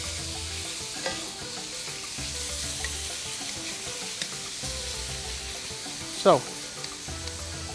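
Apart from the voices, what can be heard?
beef frying and sizzling in a pan for a stir fry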